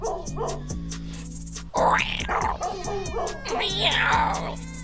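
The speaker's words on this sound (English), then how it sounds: "You guessed it, cats and dogs." Dog vocalizations, yips, whimpers and howl-like cries mixed with other animal sounds, fairly loud and continuous, with a tonal backing throughout.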